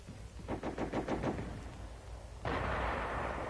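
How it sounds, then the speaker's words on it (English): An enemy machine gun fires a quick burst of about six sharp shots during an infantry advance, followed by a louder, sustained roar of battle noise. "What happens if the advance is held up by something like this enemy machine gun?"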